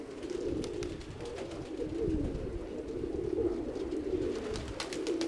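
Pigeons coo softly and repeatedly, their low throaty calls overlapping close by, with faint rustling and taps in the background.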